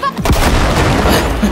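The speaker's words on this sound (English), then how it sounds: "Throw a couple nades in there." Grenade explosions in the Cyberpunk 2077 video game, a dense run of loud booms and rumbling blasts that fill the whole moment with continuous heavy gunfire-like bursts.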